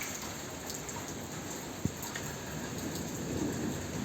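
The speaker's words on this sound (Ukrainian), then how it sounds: "Дощ іде." Rain falls in a soft, steady patter, faint and even throughout, broken by one sharp drop or tap partway through.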